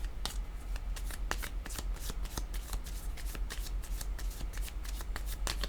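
Tarot cards riffle and slap in a close, steady run of crisp shuffling bursts over a quiet background, with no talking.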